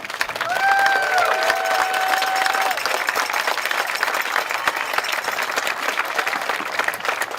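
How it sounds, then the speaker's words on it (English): Audience at a high school commencement ceremony applauding the graduates, dense sustained clapping with a few cheers, loud and continuous for several seconds. "Let's give one more round of applause for this entire group."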